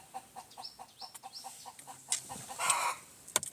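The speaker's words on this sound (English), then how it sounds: "That is why the chicken has spoken." A chicken clucks in a quick series of short, faint calls close by, followed by a slightly louder, drawn-out squawk near the end.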